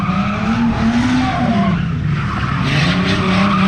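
A drift car's tyres squeal loudly and continuously during coilover testing, a sustained close-up screech over a revving engine with a pitch that wavers slightly as the slide holds.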